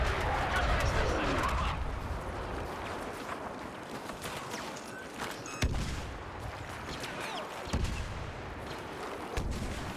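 Video game explosions and gunfire rumble through a dense, continuous battle din, with a couple of sharper booms standing out, in a multiplayer match of the Star Wars Battlefront beta.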